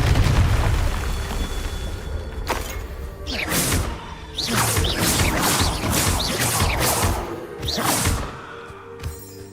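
Booming blasts of the Confringo fire spell burst repeatedly in Hogwarts Legacy, several loud explosive hits with crackling tails over a rumbling game soundscape, no voices.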